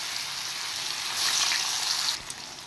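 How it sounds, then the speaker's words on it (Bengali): Paneer pieces coated with turmeric and salt fry in oil with a steady, close sizzle that swells briefly in the middle, then eases to a quieter hiss. "এবার এটা নামিয়ে দিয়ে আমি পনিরটা ভেজে নেব।"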